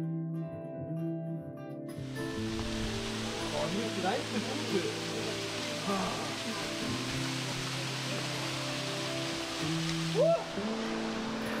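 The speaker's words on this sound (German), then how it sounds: "da hinten ist schon der Wasserfall" Waterfall near a wooden footbridge on a mountain hike in the Hochfelln area of the Bavarian Alps, a steady broadband rush filling the background throughout while someone talks over it.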